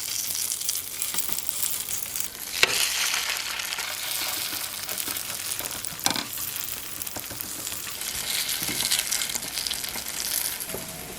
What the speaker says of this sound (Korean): 식용유를 두른 팬에 감자채를 작은 덩어리로 나누어서 넣어요.